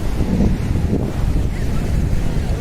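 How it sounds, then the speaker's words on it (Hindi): Sea waves wash against the rocky shore at Bandra Bandstand in Mumbai, a steady close roar of surf mixed with heavy gusting wind buffeting the microphone. "इट्स ऑल रॉकी और कुछ ज़्यादा है नहीं, बस पानी की लहरें आ रही है।"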